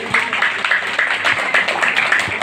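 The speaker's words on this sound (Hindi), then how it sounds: "तो तालियों से उनका भी अभिनंदन करें।" Applause from an audience at a Navodaya school poetry gathering welcomes a guest, steady overlapping claps with faint rhythmic accents, moderately loud and continuous throughout.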